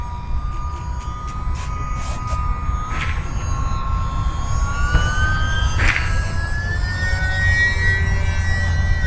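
An E-flite UMX Gee Bee R-2 RC model plane's electric motor whines at throttle, its thin tone climbing steadily in pitch over a broad background rush, with a few short clicks near the start.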